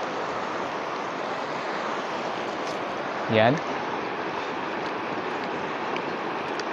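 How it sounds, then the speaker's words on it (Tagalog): Steady broadband rush of a fast river's churning water, with a boat carrying people passing, loud and continuous throughout, with one brief voice cutting in near the middle. "Tumadaan sa rumaragasang tubig ng ilog nito at may sakay pang tao."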